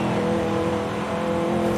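A 1996 Chevy Impala engine revs steadily in Forza Horizon 5, a loud, sustained drone at high RPM with no break.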